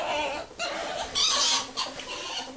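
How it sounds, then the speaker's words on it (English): Ferrets mating give off rapid squeaky clucking chirps in close, loud bursts, broken by short pauses, with no talk over them. "ferrets mating."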